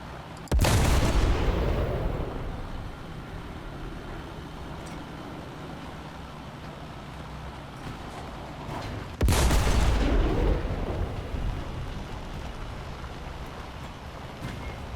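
Two heavy booms from a Leopard 2AV tank cannon in War Thunder, several seconds apart, each a sharp loud blast with a long rumbling decay over a steady engine hum.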